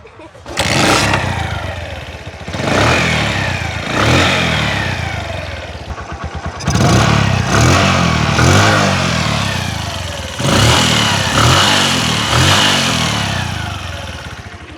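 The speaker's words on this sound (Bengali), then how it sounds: "এবার আপনাদেরকে গাড়ির ইঞ্জিনের সাউন্ডটা একটু শোনাই দেব।" A Bajaj CT 100 motorcycle engine is revved repeatedly, close by, with several throttle blips rising and falling in a loose rhythm over about fifteen seconds; no one speaks.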